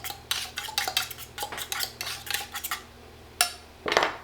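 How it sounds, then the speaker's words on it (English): A fork beats a single egg in a bowl, giving a quick run of close, bright metallic clinks and taps against the dish, then a short pause and a few final strokes. "Okay, so we need 1 egg, just a little bit mixed up here"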